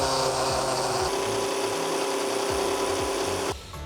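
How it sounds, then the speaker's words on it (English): A Rubi Pro Edger grinds the edge of a 20mm porcelain outdoor step tile steadily at close range with a high, abrasive whine and a faint rhythmic ticking underneath, easing off near the end. "we're going to be using the Ruby Pro Edger for that"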